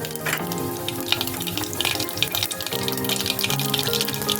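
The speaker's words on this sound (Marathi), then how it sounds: "तेल तापलं आता मी राई घालतं एक छोटा चमचा जिरं घालतं" Mustard seeds and cumin drop into hot oil in a home kitchen, crackling and spitting densely and loudly all the way through, with a faint tonal hum in the background.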